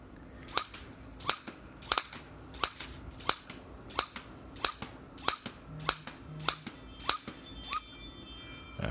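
A Nerf blaster pistol firing foam darts, about a dozen sharp snapping shots at a steady rhythm of roughly one every half second, close and distinct.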